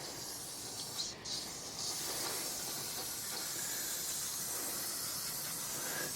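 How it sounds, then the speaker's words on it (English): A steady, faint hiss of aerosol brake cleaner sprayed onto a Yamaha Grizzly 660 ATV engine runs continuously, with a brief interruption near the start. "Take a little brake clean, spray it down in the bottom"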